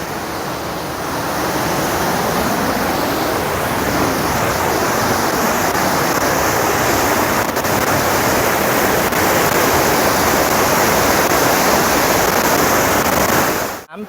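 A waterfall in Ob Khan National Park, Chiang Mai, a loud, steady rushing roar of falling water that continues unbroken before cutting off abruptly at the end.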